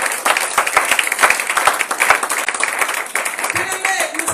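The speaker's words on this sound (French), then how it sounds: "Si tu es avec moi, acclame le Seigneur." Church congregation applauding and cheering during a Sunday worship service, a dense wash of clapping and crowd noise that stays loud throughout, with voices mixed in.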